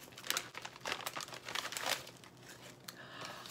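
Crinkling and rustling of a small green paper gift bag with a sticker on it as it is opened, a run of close, brisk paper crunches and crackles with no talking.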